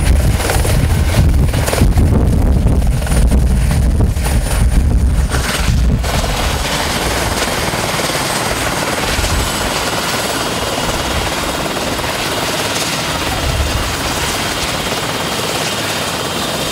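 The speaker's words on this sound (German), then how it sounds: "Man hört schon von Weitem, der Eurocopter ist wieder im Anflug." A Eurocopter helicopter approaches and lands at an outdoor meet, its loud rotor thump and turbine whine building steadily and filling the scene without any talk.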